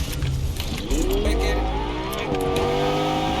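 Game car engine in Fortnite revving up and down, its rising harmonic sweeps loud and close over a low rumble, with faint game noise around it.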